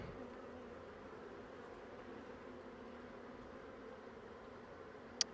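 Honeybees hum inside an open hive during fall beekeeping work, a steady, faint, even drone with no pauses, and a single sharp click near the end.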